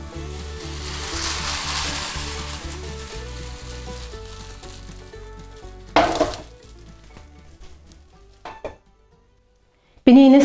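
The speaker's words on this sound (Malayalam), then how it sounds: "അപ്പച്ചട്ടി ചൂടായിട്ടുണ്ടെങ്കിൽ നമുക്ക് മാവ് ഒഴിച്ചു കൊടുക്കാവേ" Appam batter poured into a hot appam pan gives a soft, steady sizzle with faint background music. The sound fades, then a brief louder burst of noise comes near the end.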